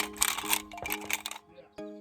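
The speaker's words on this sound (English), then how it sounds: "Shuffle the magazines." Pistol magazines for a SIG P320 M17 are shuffled by hand, giving close, busy metallic clattering and clinking, then a short pause and one final sharp knock.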